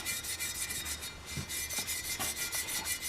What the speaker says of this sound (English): Small piece of sandpaper. And just go along the edge, clean this up.